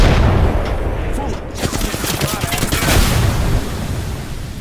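Gunfire in Apex Legends, dense and loud, with rapid overlapping shots and bursts sustained throughout, a busy battle mix with possible voices underneath.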